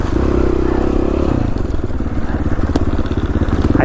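A dirt motorcycle rides a winter trail in Idaho, its engine loud and close, droning and then breaking into rapid pulsing revs with clattering from the terrain.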